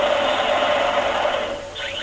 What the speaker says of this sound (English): Alarms, danger, danger.